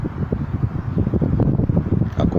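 Wind in a forest gusts and buffets close to the microphone, a continuous low rumbling rush that swells and eases unevenly, with faint rustling on top and no voices.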